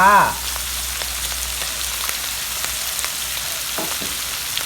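Mussels being stir-fried with long red chilies in a hot pan: a steady, close sizzle with light scraping and clinking of the spatula and a brief tone at the start.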